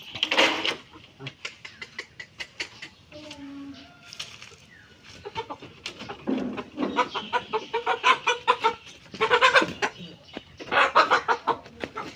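Chickens released at afternoon feeding time on a small Bangladeshi farm, clucking and squawking close by in irregular bursts that grow busier and louder toward the end, with brief bits of background voices.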